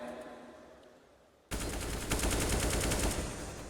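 Rapid gunfire bursts in Counter-Strike on the Inferno map during a PGL Major Krakow 2017 match, Virtus.Pro vs Immortals, an attempted wall bang; quiet ambience gives way to loud, sustained close shooting for the final two seconds.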